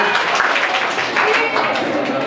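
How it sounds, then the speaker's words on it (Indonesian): A school audience gives a short burst of dense clapping, loud and close, sustained evenly for a couple of seconds. "Tepuk tangan dulu dong."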